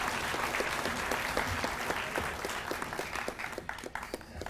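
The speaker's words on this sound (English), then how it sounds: "Let's just another round of applause, show our appreciation" Sustained audience applause fills the room at the opening session of a higher-education sustainability summit in Hawaii, dense clapping holding steady and then thinning toward the end, with no speech.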